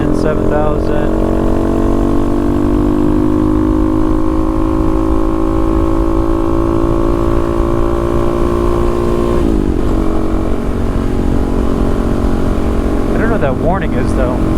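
A Honda Monkey motorcycle engine revs up steadily, and its pitch holds high and loud before a brief drop near the end. A voice briefly talks over the sustained engine drone.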